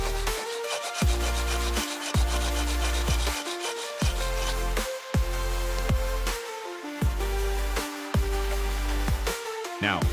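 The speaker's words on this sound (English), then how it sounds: "take a cane and rub it on sandpaper to separate the top part" A cane is rubbed back and forth on sandpaper in repeated rasping strokes, close and clear, with a steady rhythm of roughly one stroke per second and no talk.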